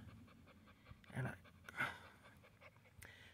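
A sick dog pants faintly nearby in soft, irregular breathy bursts, with a couple of louder huffs and quiet background noise.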